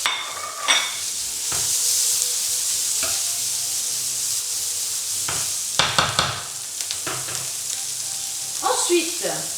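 Finely minced garlic sizzles in a pan with filets mignons, a steady hiss of frying with occasional scrapes and clinks of a utensil stirring against the pan.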